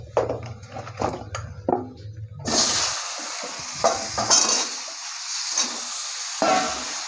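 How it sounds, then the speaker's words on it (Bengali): Potatoes frying in hot oil with turmeric in a village kitchen: some handling clatter, then a loud, steady, close sizzle with crackling bursts as they hit the oil and keep frying. "এই আলুগুলো ভেজে নেবো।"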